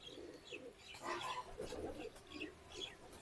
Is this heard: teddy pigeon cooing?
yes